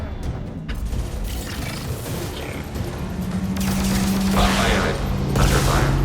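Dense volleys of gunfire in the video game Mass Effect 2 on Insanity difficulty, a continuous clattering barrage with sharp bursts that grows louder toward the end.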